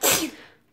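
A single sharp sneeze close to the listener, loud at first and then fading into a brief breathy tail, heard alone.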